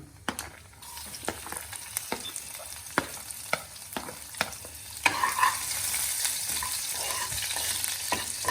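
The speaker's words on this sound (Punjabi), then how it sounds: "ਆਇਲ ਗਰਮ ਹੋ ਗਿਆ ਸੀ ਨਾ ਠੀਕ ਹੈ ਉਦੋਂ ਆ ਤੇ ਪਾਵਾਂਗੇ ਆਪਾਂ ਲਸਣ" Garlic hits hot oil with cumin seeds in a pan. Sharp stirring clicks come first, then a louder, steady sizzle builds and continues to the end, with no voices.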